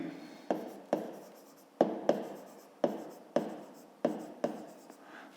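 Pen on paper during a handwritten maths exercise: a series of short, crisp scratching strokes in a loose irregular rhythm, each one sharp at the start and then fading, close and clear with no speech.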